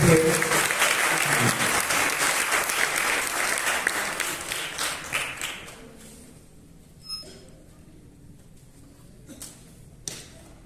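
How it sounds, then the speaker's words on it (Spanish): A theatre audience gives loud, dense applause for a stage play by a movement theatre group, holding strong for about five seconds before fading out, leaving a near-quiet room with a couple of isolated taps and thuds. "Más fuerte, ese aplauso."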